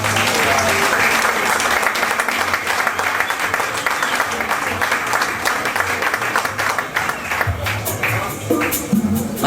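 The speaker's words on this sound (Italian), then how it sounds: "Facciamo un applauso a loro." Applause from a live show audience at Civico 1 in Rome on New Year's Eve, loud sustained clapping from a crowd throughout, with a few voices mixed in near the end.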